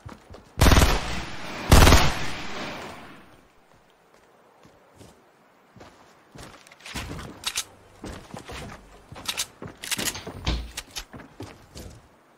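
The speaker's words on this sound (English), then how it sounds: "This guy has a heavy shotgun." Heavy shotgun fire in the video game Fortnite, with two loud, booming blasts early on followed by a rapid string of sharper shots and impacts.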